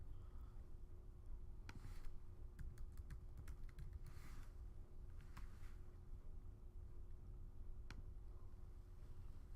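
Someone types drug names into a computer keyboard while filling in a Medicare drug plan form, making sparse clusters of soft keystrokes close by over a low steady room hum. Nobody speaks.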